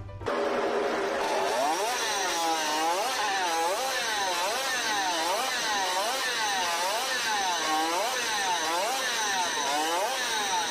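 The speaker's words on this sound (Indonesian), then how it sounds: "Motor Suzuki RP68 ini mampu berlari hingga 170 km per jam sampai 200 km per jam." A 1960s Suzuki RP68 50cc two-stroke racing motorcycle engine revs over and over, its loud, high whine climbing and falling in a steady rhythm with no talk over it.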